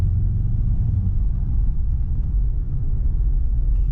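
Ford Ranger pickup engine accelerating hard, heard from inside as a loud, steady low rumble and drone that holds throughout with no talking.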